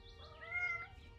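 A house cat gives a single soft, drawn-out meow, rising and falling, heard close but quietly against a faint room background.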